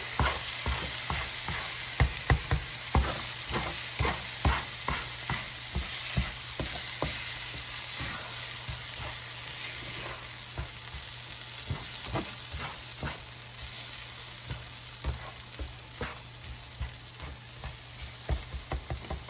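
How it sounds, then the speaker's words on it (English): Tomato, eggs and green onions sizzle steadily as they are stir-fried in a pan, with repeated spatula scrapes and clacks over a constant frying hiss, close and fairly loud throughout. "I'm going to break up the eggs and mix everything."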